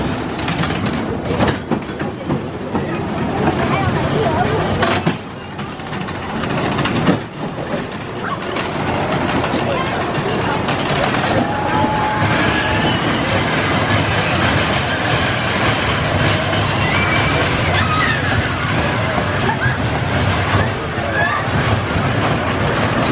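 The Little Dipper, a short, rough wooden-track roller coaster at Quassy Amusement Park, rattles and clatters along its rails with loud wind buffeting the microphone, a continuous close rumble with occasional jolts and riders' voices mixed in.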